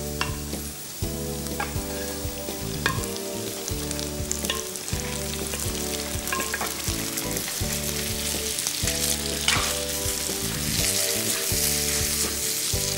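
Spätzle frying with softened onion in a pan, a loud continuous sizzle with repeated stirring scrapes throughout, steady background music underneath.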